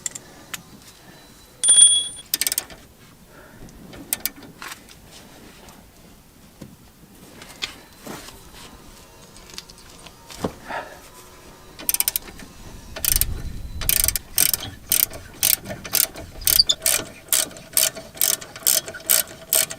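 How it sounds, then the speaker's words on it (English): Ratchet turning bolts on a Ford Fiesta Mk6 front brake caliper, scattered metal clinks and handling noises at first, then a run of about a dozen sharp, evenly spaced ratchet clicks up close. "I'm going to have to just do the ratchet on its own."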